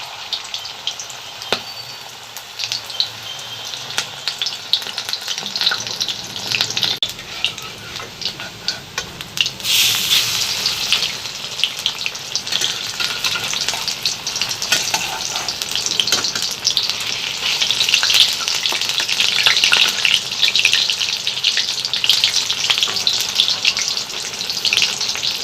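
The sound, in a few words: bottle gourd leaf fritters frying in a pan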